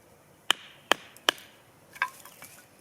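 Sharp wooden knocks ring out as a piece of milled tulip poplar is worked into a handhold for a bow drill: three evenly spaced close strikes, then a lighter pair of taps, with nothing else in the background.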